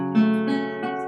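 A single guitar chord rings out on its own, struck once and sustaining briefly with a second soft re-strike near the end, clear and close.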